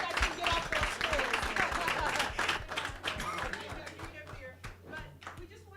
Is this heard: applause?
yes